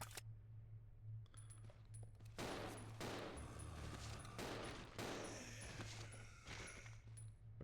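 Gunshots in a Resident Evil 0 fight, with several sharp, fairly quiet shots scattered over a few seconds above a low steady hum, some followed by faint metallic ringing.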